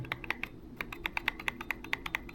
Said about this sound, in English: So if I press like this, it does have this clicky feel to it, like click